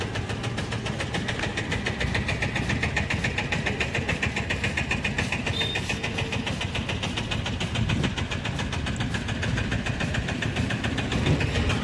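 An old, battered auto rickshaw's engine idles and rattles with a steady, dense mechanical knocking throughout, loud and continuous with no voices over it.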